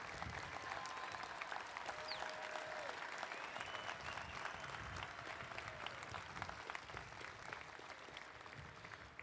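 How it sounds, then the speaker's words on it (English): Large crowd at an Indianapolis 500 drivers meeting applauds as Johnny Rutherford drives the Camaro pace car, continuous dense clapping with a few whistles, steady and fairly distant across the whole stretch. "how about a round of applause as Johnny pilots the Camaro pace car for one last ride"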